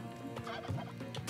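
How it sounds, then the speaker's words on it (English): Turkeys in the video game Spelunky 2 give a brief, close gobbling burst, dense and warbling, heard alone. "Do we want to bomb the turkeys for health"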